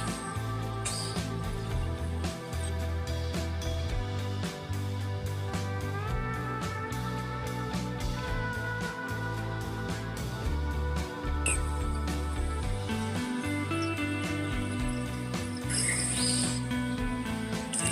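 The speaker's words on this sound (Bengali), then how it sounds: "এবার দুটো কাপড় সমান করে ধরে সাইড সেলাই করে নিচ্ছি" A sewing machine runs steadily for the whole stretch, stitching the side seam of ladies' pants with a continuous mechanical whir and rapid rhythmic clatter.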